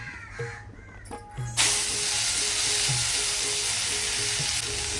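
Ground masala paste hits hot oil on an iron griddle over a wood-fired stove and erupts into a loud, steady sizzle that hisses continuously after a few quiet clanks at the start.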